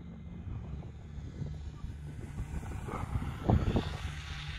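A small Lidl foam RC glider's electric motor and propeller flies at low throttle outdoors, a steady faint whirr under wind noise that rises briefly near the end.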